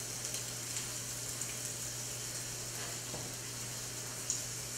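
Shrimp seasoned with salt and crushed red pepper flakes fry in a pan, giving a steady, faint sizzle with a low hum underneath and no talking.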